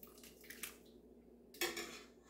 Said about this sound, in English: We're going to take a couple nice ladlefuls of this, get some more of that nice broth.